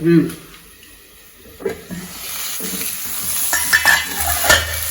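Potato roast frying in a pan and stirred now and then, giving soft sizzling with scraping spoon strokes and clinks that grow busier toward the end; someone talks over it at moments.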